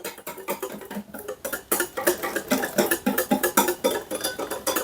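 Egg custard mixture being stirred in a pan with a utensil, a quick run of light clinking and scraping taps in an irregular rhythm, close and fairly clear with no talking.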